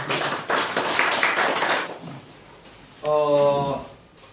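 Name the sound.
audience applause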